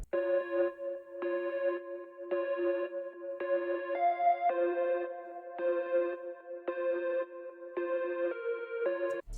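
A dark synth pattern from a preset in Analog Lab plays alone, bell-like plucked notes repeating in an even rhythm with a brief pitch change midway, clean and moderately loud.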